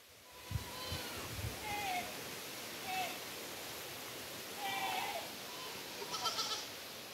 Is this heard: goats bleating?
yes